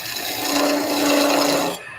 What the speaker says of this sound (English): by coming in at this shallow angle, I'm shearing here